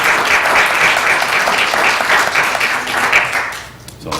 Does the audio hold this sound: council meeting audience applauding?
yes